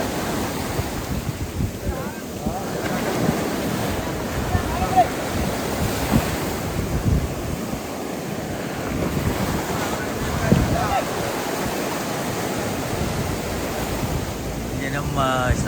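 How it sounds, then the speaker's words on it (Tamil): Sea waves crash in a continuous roar on a fishing shore while boats head out with nets. Strong wind buffets the microphone throughout. "கடல் அடிக்குது."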